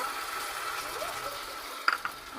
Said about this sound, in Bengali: দিয়ে এটাকে একটু নেড়ে নিই।